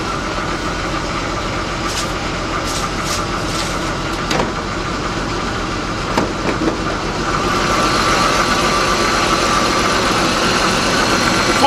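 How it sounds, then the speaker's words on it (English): A BMW engine with a misfire runs under the hood at a steady, rough idle, with a few sharp clicks and ticks in the middle and the running noise growing slightly louder toward the end. "Let's go up under the hood and see how this thing is running. This definitely got a misfire."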